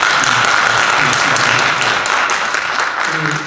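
Applause fills a Korean church council executive committee meeting, a steady wash of many hands clapping throughout with voices talking over it.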